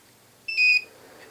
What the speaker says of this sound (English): There you just kind of heard the inverter alarm go off a little bit